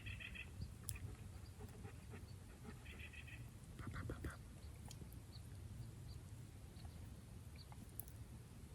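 Scattered bird calls, short chirps and quacking-like notes, sound from the woods around an overnight bushcraft camp, faint and intermittent over steady outdoor noise, with some quiet talking in between.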